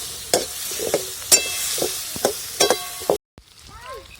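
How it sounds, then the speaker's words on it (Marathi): Drumstick pods sautéed in masala in a pan, giving soft stirring scrapes and a light sizzle with a few sharper clinks of the spoon, close by, then a short pause. "शेंगा पण चांगलं परतून द्यायचं पाच दहा मिनटं मसाल्यामध्ये"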